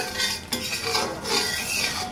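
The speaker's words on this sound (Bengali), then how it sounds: "এখন ভালোভাবে নাড়াচাড়া করে নেব" Spoon stirring and scraping through village chicken curry with turmeric, chili powder and salt in a pan, a few soft rhythmic strokes with light clinks and a faint sizzle, no voices.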